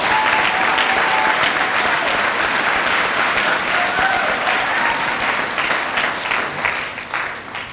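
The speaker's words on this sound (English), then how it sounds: "Y'all clap for his grandmama." An audience claps loudly and steadily at a recruit firefighter graduation ceremony, with dense applause filling the hall before it slowly thins and fades near the end.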